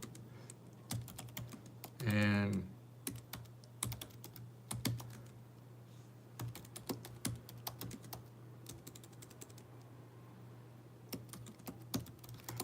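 Quick, irregular clicks of a computer keyboard as a zip code is typed in, close and crisp over a steady low hum, with a brief spoken word in between.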